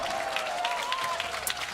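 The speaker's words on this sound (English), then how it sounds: "We have a new version of a cheer in the crowd." A crowd at a League of Legends esports match during the 2022 LEC Summer season claps and cheers in a steady, dense roar, with a faint melodic chant rising through it across the whole stretch.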